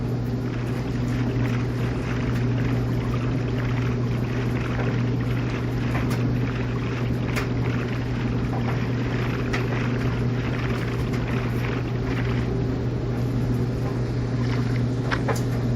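A steady engine drone with a low hum runs the whole time, a boat moving across water in Minecraft Pocket Edition, with a faint wind hiss on top and no talking.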